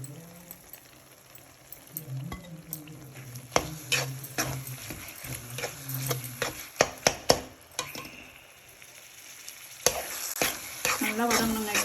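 Finely chopped tomatoes frying with onion and ginger garlic paste for a Chettinad mutton gravy, a steady close sizzle broken by repeated sharp scrapes and clacks of a spoon stirring the pan.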